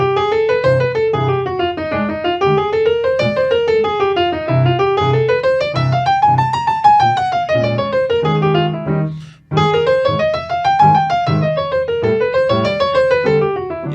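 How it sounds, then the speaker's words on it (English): Jazz solo built only from running scales: a continuous stream of fast notes sweeping up and down in waves over a steady low accompaniment, with one brief break near the end. "If I just play only scales, it sounds something like this."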